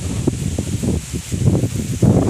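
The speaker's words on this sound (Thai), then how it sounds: "ลมแห้งมาเลยทุกคน" Wind gusting through trees in a forest during bamboo-shoot foraging, a steady breathy rush with swelling gusts and leaf rustle throughout, close to the microphone.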